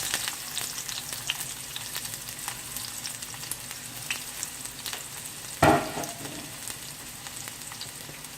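Onions frying in oil in a sauce pan, a soft steady sizzle with faint crackles and one sharp clatter of stirring midway, close and quiet, no talking.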